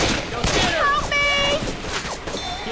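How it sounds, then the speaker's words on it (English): Gunfire in Left 4 Dead with Christmas mods, bursts of shots mixed with game effects and tonal chimes, while players talk over the action. "You do realize that you're shooting me, right?"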